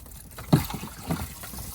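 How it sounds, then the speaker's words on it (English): Water draining out of a disconnected hot tub pump during a pump replacement, a short close gurgling splash and trickle with no talking. "there goes all the water out the pump."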